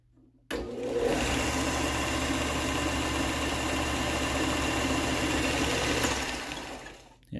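A roughly $150 belt sander starts abruptly, then runs with a loud, steady mechanical roar and hum for several seconds before winding down, no speech.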